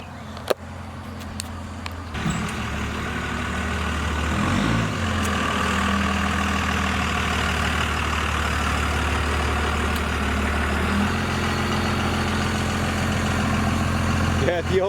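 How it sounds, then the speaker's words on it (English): A second-generation 24V Cummins diesel truck rolls up and settles into a steady, rumbling idle close by, its low engine drone running continuously under the whole stretch. "But my brother's about to pull in right now"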